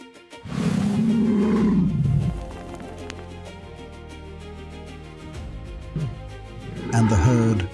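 Lions roaring in the wild near an elephant herd, a deep rumbling roar up close followed by quieter growls, then another loud roar, with hoof-like thuds and faint voices.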